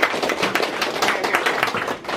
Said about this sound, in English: please, a round of applause for my collaborator,